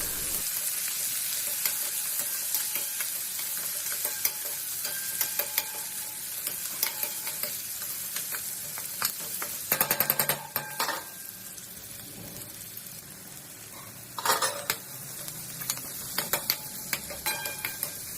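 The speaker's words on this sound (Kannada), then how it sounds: "ಉಳ್ಳಾಗಡ್ಡಿ, ಮೆಣಸಿನ್ಕಾಯಿ ಎಲ್ಲ ಹಾಕಿ ಸ್ವಲ್ಪ ಚೆನ್ನಾಗಿ ಫ್ರೈ ಮಾಡ್ಕೊಂಡ್ಬಿಡೋದು ಇದನ್ನ" Onions and green chillies fry in a pan for carrot upma, a continuous close sizzle with stirring scrapes and occasional clinks of a spoon against the pan.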